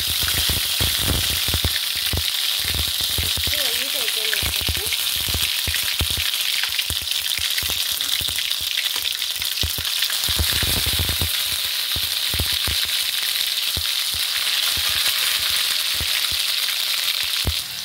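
Ginger garlic paste fries in hot oil in a pan with mustard seeds for a ridge gourd curry tempering, giving a loud, steady crackling sizzle throughout with scattered pops and scraping stirs.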